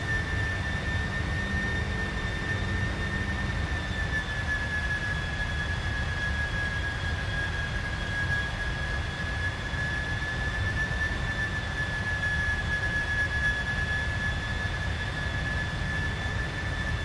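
Steady roar of Boeing 747 jet engines in a PMDG 747 flight simulator, a continuous even drone with a high whine running throughout, alone without talk.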